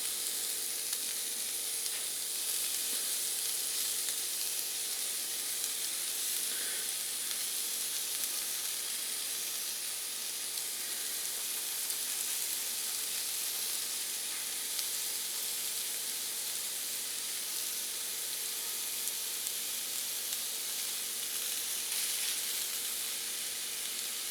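Ground beef sizzles in a pan, a steady, fairly even frying hiss with small pops and occasional stirring scrapes, alone and without talk.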